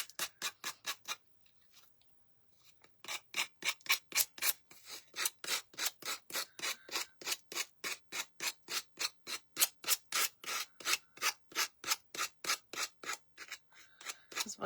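Wooden butterfly being sanded for a decoupage project: steady rhythmic back-and-forth rasping strokes, close and fairly loud, with a short pause near the start before the strokes resume at an even quick pace.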